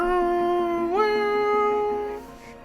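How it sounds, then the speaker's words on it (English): A tonal alarm from the ARC Raiders game soundtrack holds a steady pitched note, bends upward once partway through, then sustains and fades out, clear and alone. "I instantly think Arc Raiders every time I hear that alarm sound."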